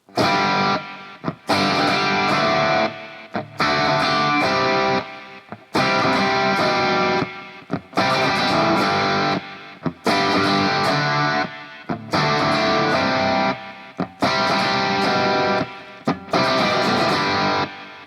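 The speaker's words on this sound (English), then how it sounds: "this riff that starts the song is in G, and it sounds like this." A distorted electric guitar plays a chugging riff in G in repeated phrases, each cut by short pauses, loud and up close with no talking.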